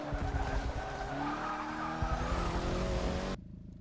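Tires squeal and skid continuously as a car counter-steers through a chicane in the Forza racing game, engine droning beneath, loud and close, then cutting off abruptly near the end.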